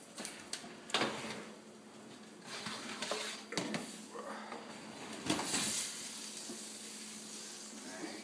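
Pork chops sizzle steadily in a pan, a soft continuous crackle broken by several sharp clanks and scrapes of utensils against the pan.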